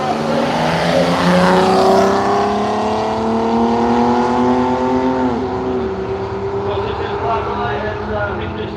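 Class A drag racing car at Willowbank Raceway in Australia, its loud engine roaring steadily with pitch sweeping down across several seconds. Another engine rumbles beneath it and a voice talks over the noise.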